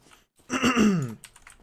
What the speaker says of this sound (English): I'm fucking clearing my throat so much